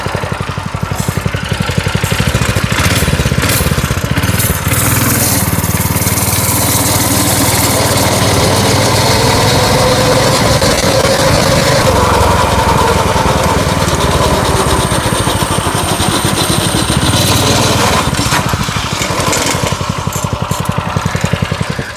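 A 212cc small gasoline engine on a homemade bike pusher runs steadily up close, a loud buzzing drone that holds for the whole stretch with slight rises in pitch.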